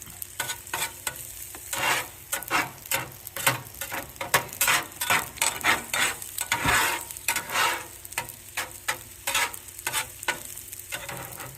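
Eggs are stirred in a pan while fried rice with chicken and scallions is being cooked, a rhythmic run of spatula scrapes and taps over a soft sizzle, close and uneven in loudness, with no talk.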